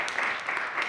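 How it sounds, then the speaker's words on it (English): Audience applause welcoming two presenters at a multicultural affairs program, a steady dense wash of clapping filling the whole moment without a break. "I would like you to give a round of applause and welcome to Naomi and Amariah"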